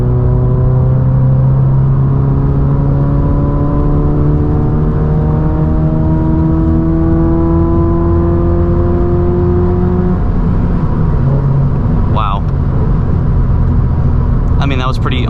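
2022 Subaru BRZ with a K&N intake at full throttle in fifth gear: a steady droning engine note rises slowly in pitch as it pulls, heard from inside the cabin, then eases off near the end.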